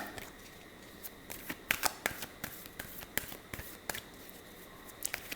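Tarot cards are shuffled and drawn by hand, giving quiet, close papery riffles and sharp card snaps in irregular bursts over a faint background hiss.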